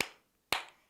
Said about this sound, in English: clap your hands.